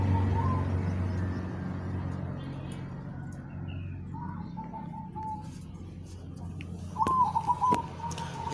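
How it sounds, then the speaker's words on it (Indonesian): A zebra dove (perkutut) coos in soft, repeated rolling phrases, heard a few times over steady low background noise with someone talking nearby. "Tuh, manggung toh kututnya."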